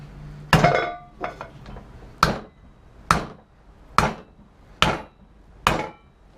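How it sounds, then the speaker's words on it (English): An UZI tactical pen's glass breaker tip strikes a hard surface again and again: seven sharp, loud, ringing impacts at a fairly even pace, a few smaller taps early on, each hit decaying quickly, no speech. "let's strike a few times and see if this thing can still stay on the pen and not unscrew itself"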